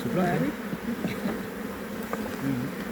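Honey bees hum and drone around an open hive at a school apiary, a dense, close buzzing with wavering pitch as individual bees pass near, steady for the whole stretch and not masked by speech.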